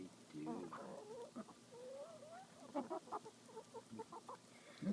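Chickens cluck and murmur softly while pecking at scratch feed, a faint, close mix of short clucks and trilling calls, with quiet voices now and then.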